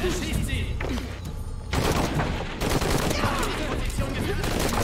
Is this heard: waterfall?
no